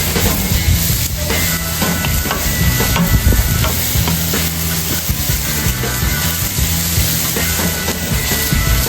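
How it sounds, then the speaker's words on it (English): Spicy shakshuka sauce with cayenne being stirred in a pan on a kamado barbecue: a loud, continuous sizzle with scraping and stirring scuffs, heard close up and alone. "Give it a good stir."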